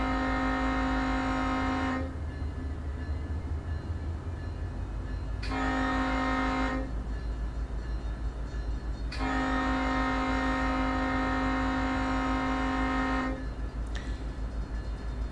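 Freight train Q127 rolls past a trackside detector in Run8 Train Simulator, a steady loud rumble of wheels and engine running throughout while a long horn blows in several sustained blasts separated by short breaks.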